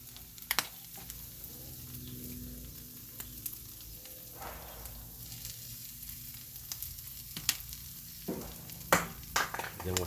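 Food sizzles and fries on a 22-inch Blackstone griddle, a soft, constant crackle under scattered sharp scraping and clicking from a spatula, fairly quiet and without speech.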